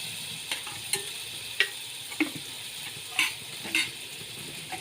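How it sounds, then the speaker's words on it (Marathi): Half a spoon of butter sizzles in a kadai for a garlic spinach tempering, making a soft continuous fizz broken by several crisp clicks and scrapes. "कढईमध्ये अर्धा चमचा बटर घातलेला आहे."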